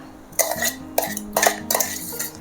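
A few clinks and scrapes of a spoon against metal as brinjal chutney is scooped into a serving bowl, spaced out over a low background hum.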